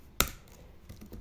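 A single sharp keystroke on a computer keyboard during coding, followed by a few soft, faint taps nearby, close and alone without speech.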